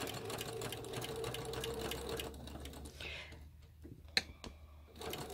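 A sewing machine stitches a quarter-inch seam while chain piecing small fabric pieces for a Goose in a Pond quilt block, running steadily for about three seconds before pausing, followed by a single sharp click.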